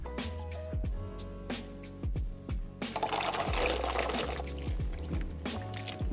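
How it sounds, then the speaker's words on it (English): Blueberries and carrots being washed in a bowl of water with a tablespoon of baking soda: sloshing and trickling water with splashy stirring, near and steady, punctuated by soft knocks and a busier churning stretch in the second half. "we wash our vegetables with a tablespoon of baking soda in water"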